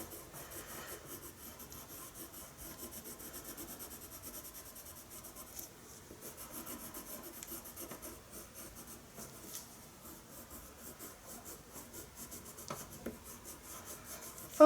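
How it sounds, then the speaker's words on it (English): A colored pencil burnishing curly brown fur on paper makes soft, close, continuous scratchy rubbing strokes, faint and repetitive with small pauses between passes. "just burnishing all those colors in there"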